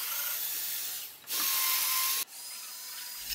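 A power driver runs coach screws into a loft bed frame, joining bearers to posts: two short whirring bursts, close and fairly loud, with brief pauses between.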